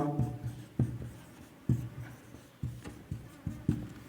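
Close handwriting strokes scratch and tap in an uneven rhythm as examples are written out, each stroke a short distinct scrape heard with no talking.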